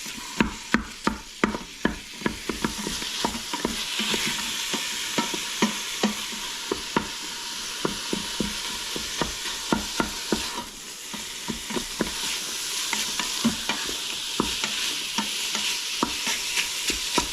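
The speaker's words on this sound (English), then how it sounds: "So we're just going to mush this all up." Ingredients are mashed and stirred in an Instant Pot for one-pot pasta, with repeated scraping, tapping strokes over a soft sizzle, steady and close.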